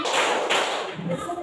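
Two sharp hand claps ring out, about half a second apart and close, in a group clapping game, with a faint, noisy room behind them.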